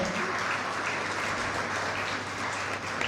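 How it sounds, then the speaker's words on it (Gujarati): Steady, dense applause from a crowd, sustained at an even level throughout with no voices standing out. "આપણે વેદાંશીને જોરદાર તાળીઓથી વધાવીએ."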